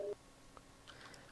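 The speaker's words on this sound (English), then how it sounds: "Ignore the Steam notifications." A short Steam notification chime, a brief two-tone beep at the very start, followed by faint quiet game sounds.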